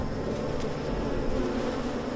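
Insect buzzing in the video game Submerged hums continuously at a moderate level, a steady close drone with no speech over it.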